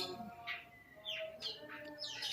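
A white-rumped shama, or murai batu, sings in short bright bursts of rising and falling whistled notes, fairly close and clear over a low, steady background hiss.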